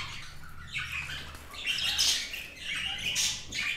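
Pet birds in a breeding room, an albino female and a pied male sharing a nest box, give repeated bright squawks and chirps, close and moderately loud, with no talking.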